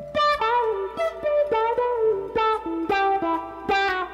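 Electric guitar plays a short lead phrase in a quick run of picked single notes with a slide, bright and close, no voices.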